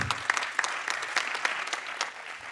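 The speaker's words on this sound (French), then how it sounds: "On les applaudit." An audience claps for the first winner of the Tech'Agri Challenge 2023, an automated cattle headlock, producing a brief burst of lively applause with distinct individual claps close by.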